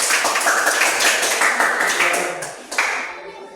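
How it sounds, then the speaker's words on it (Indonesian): Classroom audience applauds a presenting group, a loud, dense burst of clapping close by that thins out and fades after a few seconds. "berikan aplaus kepada kelompok"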